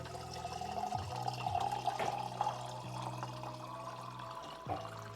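Fresh mint is rinsed under a running kitchen tap, with a steady close stream of water and a few sharper splashes and knocks against the sink.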